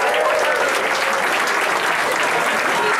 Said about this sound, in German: begrüße mit einem kräftigen Applaus unseren und ihren General Manager an Bord von der Estella, Wolfgang Pichler